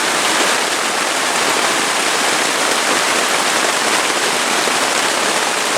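Heavy rain pours down on a tent in a dense, continuous hiss, loud and close, with no pauses or voices.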